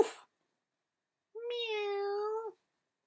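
A voice imitates a cat during a children's farmyard story reading, one drawn-out meow of about a second, clear and close, after a brief noise at the start.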